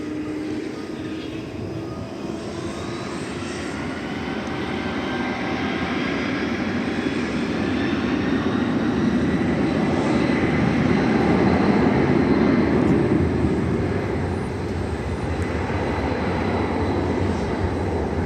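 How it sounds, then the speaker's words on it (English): A large jet airliner roars down the runway on its takeoff roll at DFW Airport, a loud, steady, broadband engine rumble that swells gradually and holds strong throughout, with no talk over it. "See if it lifts off before it gets to Terminal D."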